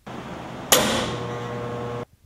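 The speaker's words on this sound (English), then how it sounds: "Test number 11 is the Cube Crush solenoid test." The Cube Crush solenoid on a Frigidaire side-by-side refrigerator with door-mounted controls switches on with a sharp click, then buzzes loud and steady for over a second before cutting off abruptly, heard up close.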